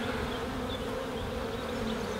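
Honeybees hum in an open hive during a beekeeping inspection in the UK, a continuous close, even buzz that holds steady throughout with no voices.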